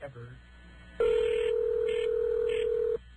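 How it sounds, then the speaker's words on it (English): A telephone call ringing out, with one long steady ring tone lasting about two seconds, clear and fairly loud over a quiet line after brief faint talk. "Well, it's ringing."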